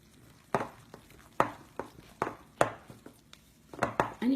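Sticky no-knead bread dough is mixed by hand in a bowl, giving a series of sharp slaps and thumps at an uneven rhythm, close and fairly quiet, with no speech.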